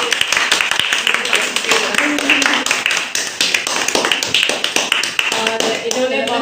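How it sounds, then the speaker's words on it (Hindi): Welcoming applause for seniors at a women's course gathering: dense, loud hand clapping that runs steadily throughout, with a voice speaking briefly over it near the end. "तो आपके सीनियर का जोरदार तालियों से स्वागत"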